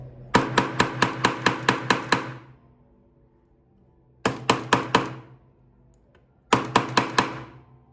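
A metal hammer taps on a jeweller's bench while stones are channel-set, coming in three close bursts of sharp, evenly spaced strikes: about eight, then four, then three, separated by pauses.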